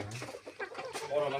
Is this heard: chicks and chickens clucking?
yes